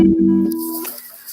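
Ukulele in low G tuning, strummed close to the microphone: a few ringing notes that fade quickly, followed by a brief, soft scratchy strum at the end.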